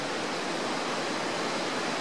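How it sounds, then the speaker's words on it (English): A creek flows in a steady, dense rush of water, loud and close, with no voices or other sounds over the continuous wash. "It's just so awesome seeing that creek that's flowed here for ages."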